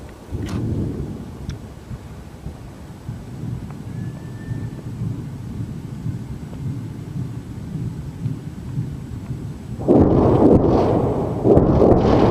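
Deep, rolling rumble from a huge explosion in eastern Ukraine, heard far off through wind buffeting on a phone mic, swelling louder toward the end.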